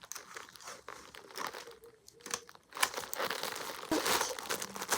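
Paper wrapping on a package crinkling and crunching as its sides are folded in, close and fairly loud, a continuous handling sound with brief pauses and no talking.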